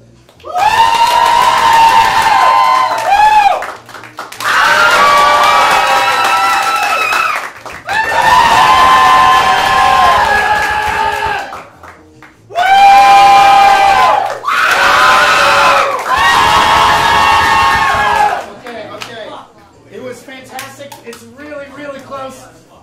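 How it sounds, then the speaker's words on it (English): A live theatre audience at an improv comedy show cheers, whoops and claps loudly for a contestant in several long bursts separated by short pauses, ending as a host starts talking. "you're just going to cheer loudly for the person that you'd like to see win tonight"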